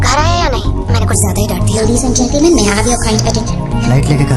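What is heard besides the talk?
No everyday noise stands out behind the speech.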